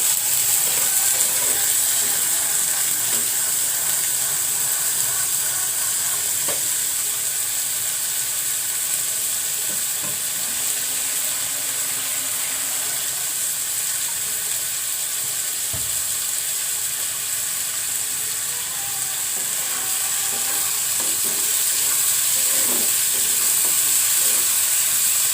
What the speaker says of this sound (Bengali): একটু আমি মসুর ডালগুলো ভেজে নেব।